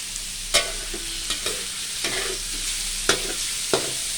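Pork being stir-fried with fried garlic in a pan: a steady, loud sizzle runs throughout, broken by several sharp scrapes and clanks of a spatula tossing the food, with no talk.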